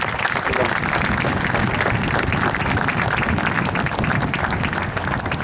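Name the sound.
round of applause for football players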